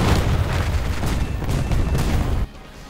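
Bombs from a German Ar-234 C-3 jet bomber in War Thunder explode on ground units, heard as a loud continuous rumbling barrage of booms with repeated blasts, cutting off abruptly near the end.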